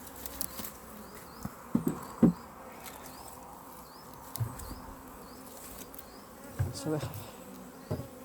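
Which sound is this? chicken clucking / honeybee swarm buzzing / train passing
honeybee swarm buzzing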